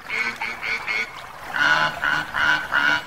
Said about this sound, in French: Et voilà les canards avec les canetons.